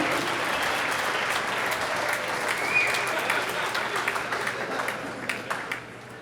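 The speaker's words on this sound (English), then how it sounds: "Let's give him a big round of applause" A crowd applauds steadily throughout at a high school boys basketball game, a dense wash of clapping in a large, echoing gym, with a few louder claps near the end.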